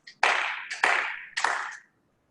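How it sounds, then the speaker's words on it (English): Hands clap three times at the close of a qigong and tai chi routine, each clap crisp and close, spaced about half a second apart, with a brief ringing tail after each one. "we step back with the right foot and the left foot and clap 3 times"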